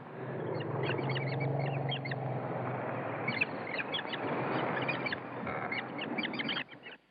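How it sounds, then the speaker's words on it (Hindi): Birds call in a forest, with repeated chirps and honking cries over a steady bed of rustling ambience, fairly close and continuous, ending abruptly. "परिंदों की मधुर आवाज़ें और ठंडी हवा"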